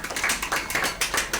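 A small classroom group claps for a student in a math class, a brief burst of quick, fairly close hand claps, with no talking.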